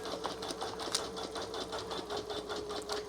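A Janome Memory Craft 1000 embroidery machine stitches unattended, giving a steady fast chatter of needle strokes over a constant motor hum. It sits close and keeps an even level throughout, with no talking.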